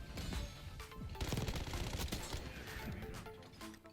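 Rapid automatic gunfire from a high fire-rate weapon in Black Ops 6, a dense continuous rattle with crackling impacts, fairly quiet and sustained across the whole moment.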